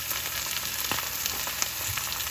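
Oil sizzles steadily in a hot skillet being readied for a ribeye steak, a dense, continuous crackling hiss with small pops, close and alone.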